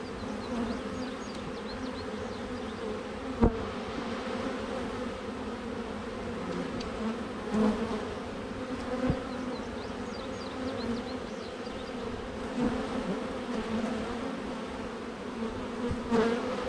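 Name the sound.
honeybees buzzing at a beehive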